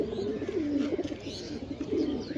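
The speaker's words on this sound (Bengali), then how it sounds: "মাশাআল্লাহ, অনেক সুন্দর কবুতর।" Pigeons coo steadily and close by in a pigeon loft, a soft rolling murmur that runs throughout.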